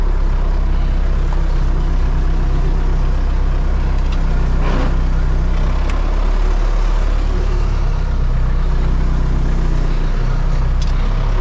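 A tractor engine drones loud and steady from start to finish while wheat is being sown in the field, its heavy low rumble never letting up, with faint knocks and clicks now and then.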